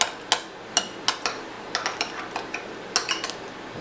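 A spoon stirs gyro sauce with dill in a bowl, producing a run of sharp, irregular clinks and taps against the bowl, close and fairly quiet, with no talk.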